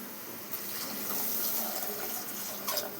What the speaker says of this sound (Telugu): వాటర్ అయితే పోసుకున్నాము.